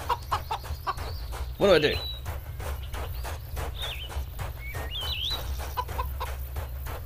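A chicken creature in the game CHKN gives a short loud cluck or squawk, then a few fainter chirps, over a steady low background hum and soft stepping sounds, with someone talking briefly.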